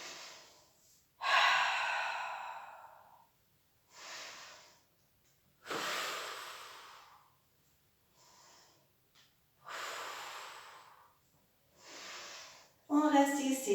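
Audible breathing during a Pilates exercise, with long forceful inhales and exhales repeating in a slow, even rhythm, loud and close, separated by near-silent pauses.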